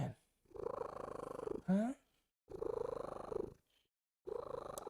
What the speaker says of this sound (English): He does he'll do like these high-pitched trills when he's purring.